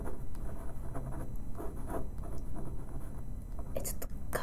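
A glass pen scratching and gliding across drawing paper, soft rubbing strokes close up, with faint scratchy taps near the end and murmured voices in the background.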